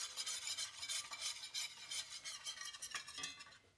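A whisk scrapes steadily and quickly through a gravy roux in a frying pan, making a bright, continuous scratching and swishing sound that stays close and quiet, with faint sizzling under it and no voices.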